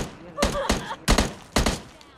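Gunfire from computer-controlled bots in PUBG Mobile Lite, three sharp bursts of shots spaced about half a second apart, fairly close and loud.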